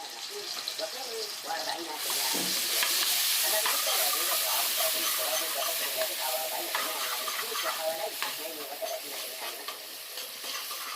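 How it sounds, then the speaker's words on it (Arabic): Garlic frying in a pot with cumin and black pepper in an Egyptian home kitchen, stirred steadily through a continuous close sizzle and hiss with the scrape of the spoon, no talking. "نزلت بالتومة في قلب الحلة، وحطيت شوية كمون وشوية فلفل أسمر، وعمّالة أقلّب"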